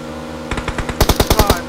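PUBG Mobile gunfire starts with a few spaced single shots, then breaks into a quick, loud burst of about eight evenly spaced rounds close by.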